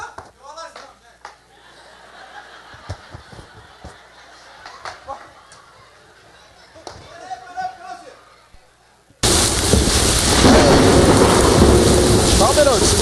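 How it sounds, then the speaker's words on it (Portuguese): Heavy rain roars in loud and unbroken, with a thunderstorm building, arriving suddenly after several seconds of quieter scattered sounds and voices. "Vai cair uma grande chuva."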